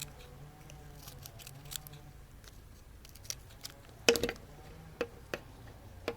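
Scissors snip through feathers while shaping a simple feather fishing float, giving a scatter of quiet, close clicks with one sharper, louder cut partway through and a few light snips after it.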